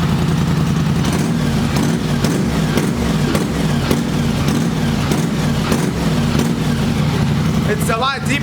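A straight-piped four-wheeler ATV idles close by with a deep, loud, steady exhaust rumble and a lumpy pulsing rhythm, running continuously throughout.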